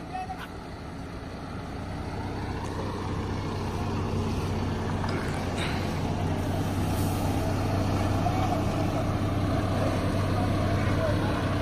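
A super link truck reverses straight back, its heavy diesel engine a steady low rumble that swells slightly and holds, with a brief air-brake hiss near the start and people talking faintly over it.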